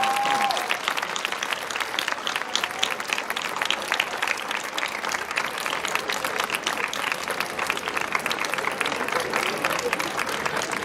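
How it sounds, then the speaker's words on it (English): An audience at a school English play claps and applauds steadily throughout, a dense, even patter of many hands at moderate volume. "Big round of applause, guys."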